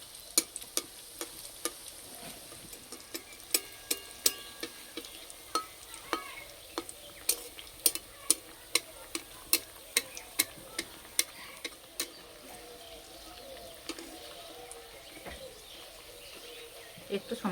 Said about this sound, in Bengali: একটু সময় ধরে আস্তে আস্তে ভেজে নিতে হবে, তাহলে একদম খাস্তা মুচমুচে হয়ে ভাজা হবে